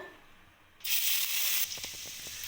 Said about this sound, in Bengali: এবার আমি রসুন কুচিটা কড়াইতে দিয়ে দেব